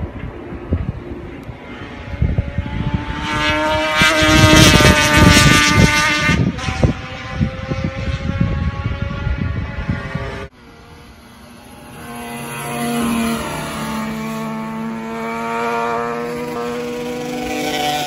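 Motorcycle engine droning and revving as the bike rides out of a corner, loud and steady with a throaty whine, then an abrupt cut to a quieter steady engine hum that gradually swells.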